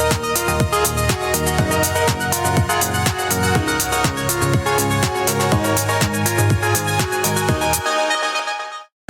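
Layered deep house synth melody over a steady four-on-the-floor beat, full and continuous, then a short fade to silence at the end.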